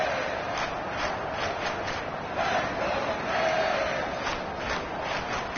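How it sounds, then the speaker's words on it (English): A packed football stadium crowd at a Dolphins versus Jets game roars in a steady, dense wash of cheering and shouting, loud and sustained throughout without letup. "Crowd getting in it a bit already."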